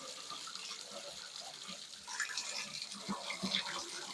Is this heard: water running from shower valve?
yes